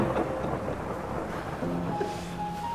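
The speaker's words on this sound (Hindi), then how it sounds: "ओह बारिश" Seasonal rain falls as a continuous broad wash with a low, windy rumble underneath, steady and fairly loud throughout, with no one speaking.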